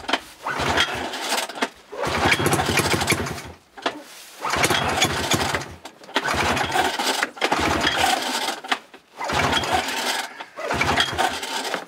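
A snowmobile engine is cranked again and again at minus 22 in the cold, and each attempt brings loud, rough, sputtering bursts of engine noise lasting about one to two seconds, with short gaps between them.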